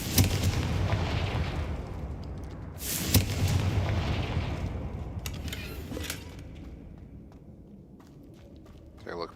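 In Hogwarts Legacy, a Confringo fire spell goes off with booming explosive blasts, a loud burst at the start and another near the three-second mark, trailing into rumbling debris and footsteps.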